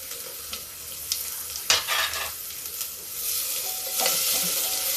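Garlic, green chili and onion hit hot oil over a low gas flame, giving a close sizzle with scraping spatula strokes and a few sharper clatters of stirring in the pan.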